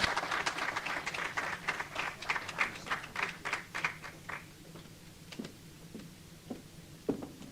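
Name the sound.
audience applause for health minister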